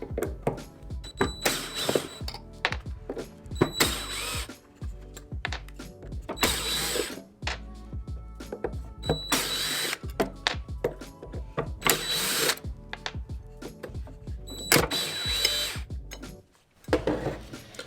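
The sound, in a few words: unscrewing screws from a Porter Cable planer blade cover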